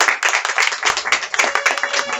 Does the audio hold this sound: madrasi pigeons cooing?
no